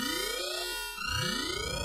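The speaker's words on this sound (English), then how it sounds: "What if I hit the elevator alarm?" A video game elevator alarm blares continuously, rising and falling in sweeping tones that repeat about twice, loud and alone with no talk.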